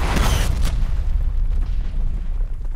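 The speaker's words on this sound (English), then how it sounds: "Incoming artillery." Heavy artillery explosions from a Call of Duty match land in a continuous rumbling barrage, with loud low booms and sharp blast onsets in the first second giving way to a sustained roaring wash.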